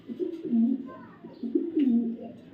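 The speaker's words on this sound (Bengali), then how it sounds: "যারা রেসার কবুতর চিনেন যারা রেসার কবুতর খুঁজতেছেন" Racing pigeons of a foreign Black Diamond bloodline coo in low, throaty repeated phrases, two clear bouts close to the listener with faint background sound between.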